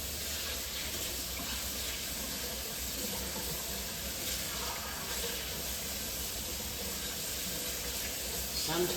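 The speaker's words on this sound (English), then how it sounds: "So I'll rinse off there." Tap water runs steadily into a kitchen sink as hands are rinsed mid-way through mixing biscuit dough, a continuous close hiss of splashing with no pauses.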